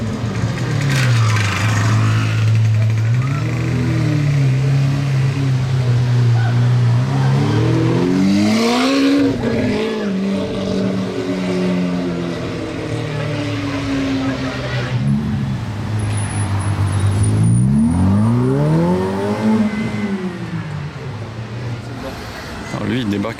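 A Lamborghini Aventador V12 engine revs loudly up close, with rising and falling pitch sweeps over a steady idle rumble. Street traffic fills the background, and people talk throughout.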